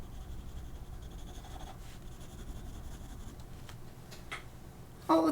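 Pen or marker scratching steadily across marker paper, a faint, continuous dry rubbing with small strokes and taps, quiet and close, ending with a brief louder knock.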